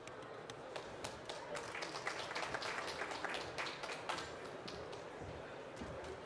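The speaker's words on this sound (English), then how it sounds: "a round of applause for all three of our speakers" An audience at a COP29 climate finance session applauds its speakers, with a faint, steady patter of many hands clapping heard from a distance for several seconds.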